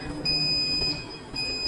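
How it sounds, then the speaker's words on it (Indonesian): A security scanner alarm goes off at an airport baggage check as a coffin with metal ornaments passes through. It gives a steady, high electronic tone with a brief break near the end, sounding over a low background murmur. "Saat melewati mesin pemeriksaan, alarm berbunyi dan Hee-ju memberitahu"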